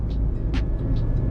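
A car driving, heard from inside the cabin: a steady low road rumble and engine drone for a brief moment, with faint higher hiss and no speech.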